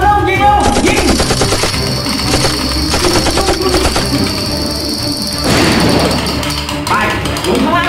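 Rapid bursts of toy or game gunfire during children's police-and-robbers play, loud and continuous with a thud, mixed with a voice talking over it.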